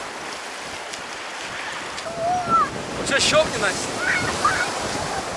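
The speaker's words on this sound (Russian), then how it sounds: "С двух сторон море встречается." Sea waves wash onto a spit on the Crimean coast where two seas meet, a steady broad rush of surf mixed with wind buffeting the microphone, while people talk briefly in the background.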